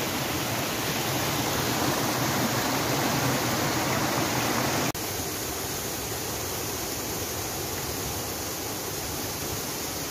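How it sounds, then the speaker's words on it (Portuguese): A small waterfall spills into a pool on the Macacu mountain river, a constant, close, full roar of rushing water that dips slightly in level partway through, with no voices. "Mais um poço, mais uma cachoeirinha."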